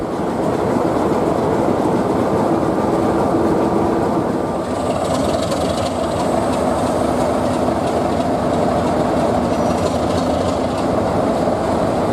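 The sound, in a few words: Class 33 and Class 50 diesel locomotives running round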